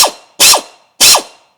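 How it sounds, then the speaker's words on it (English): A pneumatic hammer or ratchet works a seized O2 sensor on a Mini One, firing three loud, close, rapid bursts, each cutting off and tailing away before the next. "I'm going to use a pneumatic hammer or ratchet to try to get it out"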